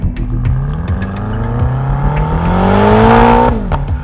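A BMW M5 and a Porsche Panamera GTS launch side by side off a drag strip line, engines roaring loud and close as they rev higher through the run, then a gear change drops the pitch.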